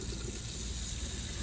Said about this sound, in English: Wash hands and arms under warm running water.